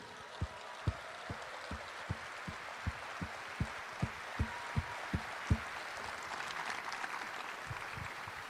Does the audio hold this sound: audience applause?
yes